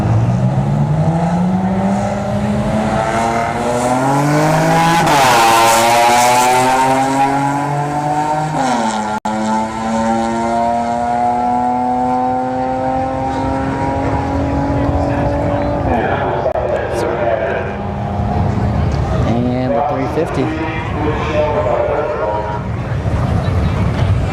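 At a street drag racing event at Bradenton Motorsports Park, a Chevy Spark or Sonic and a Nissan 370Z or 350Z launch with loud, rising engine revs that climb through several gear shifts, sounding close, then fading into distance amid crowd and track noise.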